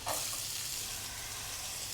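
Garlic and chopped onion frying in a pan give a steady, close sizzle with a soft crackle, holding even and loud the whole time with no voices.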